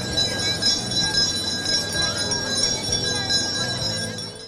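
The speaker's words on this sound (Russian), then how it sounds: "Для первоклассников звучит первый звонок." A school bell rings out as the first bell for first-graders at a ceremonial first-day school assembly, a continuous bright metallic ringing held steady and loud over crowd noise for several seconds.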